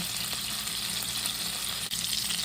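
Ground beef sizzles in olive oil in a skillet, a constant bright crackling hiss with no talk over it.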